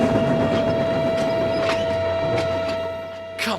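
Edward, a model engine, hauling a heavy train up a hill with a continuous rumbling, clattering rail noise, a steady tonal whine running through it, easing off near the end before a short rattle.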